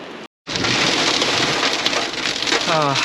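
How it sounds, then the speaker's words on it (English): Hail and heavy rain pour down steadily, a dense close hiss of drops and pellets striking surfaces. A brief cut of silence comes near the start, and a faint voice sounds near the end. "It started to hail."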